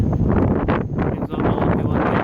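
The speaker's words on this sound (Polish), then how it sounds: "taki wieje chamski zimny wiatr" Strong cold winter wind buffets the microphone, a constant rough rumble with gusty surges, no other sounds standing out.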